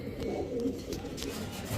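A female Army-breed pigeon coos softly in a low, steady murmur that runs continuously through the moment, faint and close with no other sounds standing out.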